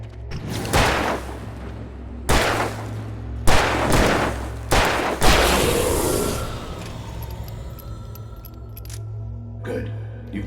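Several loud, separate gunshots ring out at a steady pace in Alan Wake Remastered, each with a sharp crack and a short decay, then fade into a low ambient hum and faint tones. Voices run underneath.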